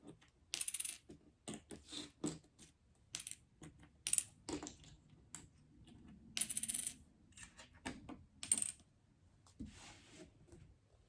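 Coins handled and counted during a math lesson: a series of close, bright metallic clinks and taps that come in irregular bursts across about eleven seconds, with quiet gaps between them.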